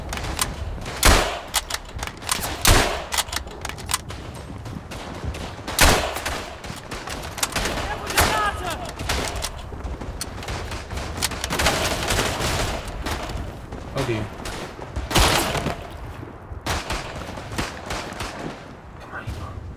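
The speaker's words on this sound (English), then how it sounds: "let's just use this rifle for a bit" Rifle shots ring out in a World War I shooter, Verdun, as sharp loud cracks spaced a few seconds apart, mixed with distant battlefield gunfire throughout, while someone talks over the noise.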